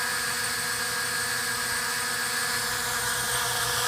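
Steady high-pitched whine of a Blade QX quadcopter's electric motors in flight, a continuous close buzzing hum with a distinct pitch holding level throughout, no voices.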